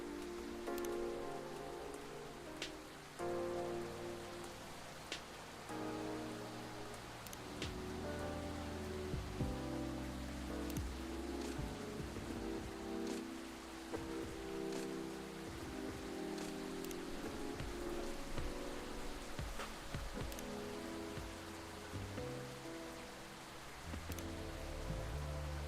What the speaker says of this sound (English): This rainy season sure is something.